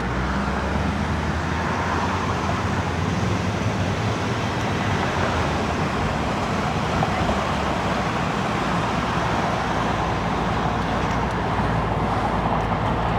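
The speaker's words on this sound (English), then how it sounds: "Again, more of that rush hour traffic here." Rush hour road traffic in Iowa City: a continuous, moderately loud wash of passing cars and road noise with no distinct individual events.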